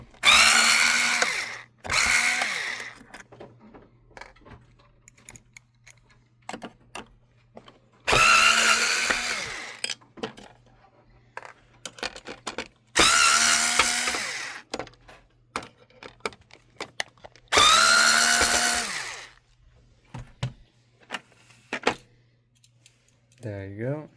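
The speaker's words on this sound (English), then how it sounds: "we just have four 6-point torque screws right here" A power driver whirs out four six-point Torx screws from the plastic housing of a Bose Solo TV speaker, with four loud bursts of spinning between pauses and quiet handling clicks.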